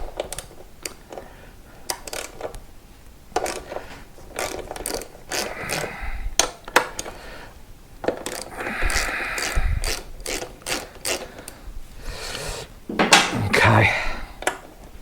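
A ratchet clicks away as 10mm bolts are loosened and removed on a Royal Enfield Meteor 350, bursts of close metallic ratcheting mixed with clinks of tools and parts throughout.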